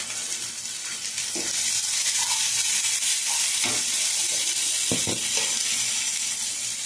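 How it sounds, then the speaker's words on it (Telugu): Turmeric and salt frying in a hot pan for Indian chicken fry, a loud steady sizzle filling the whole stretch, with a few clinks of a stirring spoon against the pan. "ఇప్పుడు ఇవన్నీ వేగుతున్నాయి కదండి."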